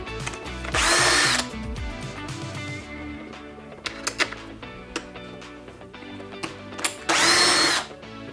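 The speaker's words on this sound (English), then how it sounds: "So removing these nuts and bolts, you'll need a 7mm ring spanner and a drill or screwdriver." A power drill whirs in two loud bursts, at the start and again near the end, to remove the nuts and bolts from the side cover of a Robo-Pro motorbox, with small metallic clicks and taps between the bursts.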